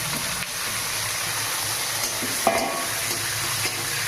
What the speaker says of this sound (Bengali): একটু ভেজে দেবো,